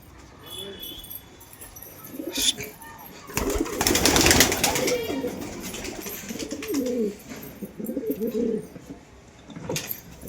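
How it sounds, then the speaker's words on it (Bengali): Domestic pigeons kept at a village home coo softly nearby, low throaty calls repeating across the scene, with a burst of flapping and clatter midway. "এখানে পায়রা ছাড়া আছে আমার।"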